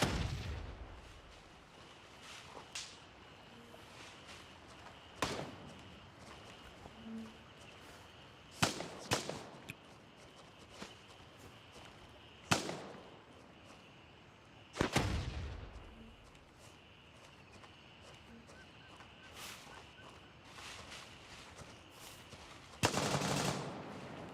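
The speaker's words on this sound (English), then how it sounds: "I'm hearing shooting all around" Gunfire crackles from all directions around the Gray Zone Warfare battlefield: scattered single shots and short bursts at varying distances, some sharp and close, others faint and far, over a quiet ambient bed with no talk.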